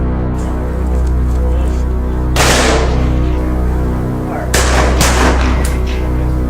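Two sharp rifle shots ring out about two seconds apart during SWAT sniper training at an outdoor range with rows of metal targets out to 550 yards. Each crack is loud, with a brief echoing tail over a steady low background.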